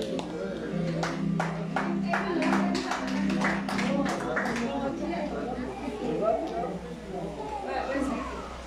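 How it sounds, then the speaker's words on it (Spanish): Audience at a kite festival in Jacaltenango, Guatemala, gives a round of applause for a painter and sculptor, a dense burst of clapping that thins out after several seconds as talk and murmuring take over. "Fuertes aplausos entonces ahí para el maestro José Luis López"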